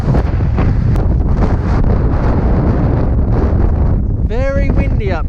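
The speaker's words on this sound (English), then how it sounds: "Very windy up here." Strong gusting wind roars and buffets the microphone on an exposed hilltop fort above the bay in Les Saintes, Guadeloupe, a loud, unbroken rush with a voice briefly speaking near the end.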